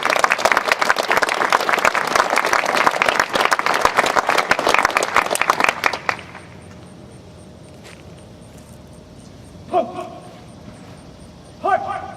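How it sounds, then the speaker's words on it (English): An audience at a University of Virginia NROTC orientation and graduation ceremony gives the company leaders a loud round of applause for about six seconds, which then stops, leaving a quiet room with a couple of brief noises. "We can all give them a round of applause for their hard work."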